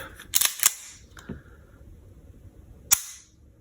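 A full-size 1911 .45 ACP pistol trigger clicks sharply in a quiet room: a quick pair of snaps near the start, then one crisp click a couple of seconds later, each dry and close.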